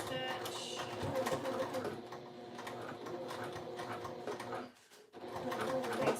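A sewing machine runs continuously while back tacking a fabric pouch, a near, rapid mechanical whir that briefly stops and then resumes.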